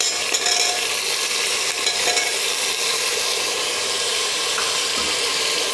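Green peas, potatoes and other vegetables sautéing in a pan, a steady broadband sizzle with faint scraping and stirring clatter throughout, fairly loud and close with no voices.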